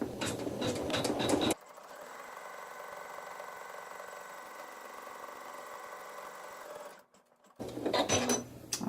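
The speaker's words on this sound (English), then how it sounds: "I'm going to give it a good finger press and sew the tack down stitch" A sewing machine stitching a tack down stitch on quilt fabric, a steady mechanical whir for several seconds, bracketed by brief handling noises before and after.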